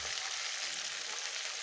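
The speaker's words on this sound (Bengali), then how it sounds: "এবার আমি ভালো করে মশলাটা কষিয়ে নেব।" Spice paste of ground masala with turmeric and whole garlic fries in a pan for a jackfruit curry, giving a steady, soft, close sizzle with no voices.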